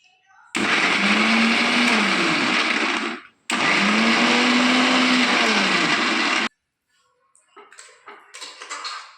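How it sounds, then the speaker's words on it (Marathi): A mixer grinder whirs loudly, grinding paneer pieces with coriander, cooked onion and tomato in two sustained bursts split by a brief pause. Light clattering and handling sounds follow once the motor stops. "पनीरचे काही तुकडे कोथिंबीर टाकून मिक्सरमधून बारीक वाटून घेऊ"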